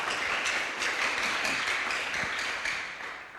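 A church congregation at a GKB youth worship service breaks into dense, steady applause that carries on evenly for several seconds, moderately soft and without clear talk over it.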